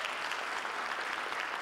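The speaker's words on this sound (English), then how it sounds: "Please, a round of applause." Applause from the audience at a campus keynote event on free speech and safety, a dense, steady wash of many clapping hands, fairly loud and continuous throughout.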